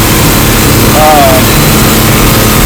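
Tractor engine idling while mowing hay, a loud continuous low rumble filling the whole stretch, with a brief tonal whine partway through.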